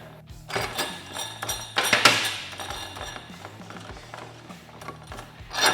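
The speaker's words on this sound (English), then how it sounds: "I'm just gonna unthread the nut all the way." A nut is backed off and unthreaded from the primary clutch of a Polaris RZR 800, producing close metallic ratcheting clicks, clinks and scraping from the tool and parts, with no speech.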